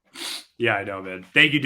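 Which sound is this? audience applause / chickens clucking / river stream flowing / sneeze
sneeze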